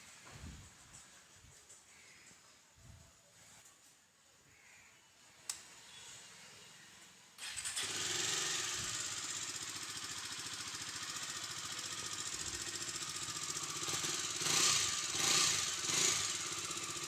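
A Bajaj motorcycle engine starts abruptly after several seconds of quiet, then settles into a loud, steady, close-up idle that continues to the end.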